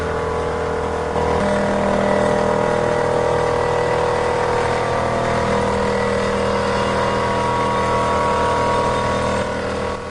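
A pile driver drives steel sheet piles, two sheets at a time, into the ground for an office tower foundation, producing a loud, steady, droning mechanical roar that continues unbroken for the whole stretch.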